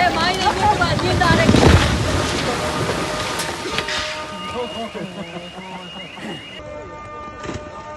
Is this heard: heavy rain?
yes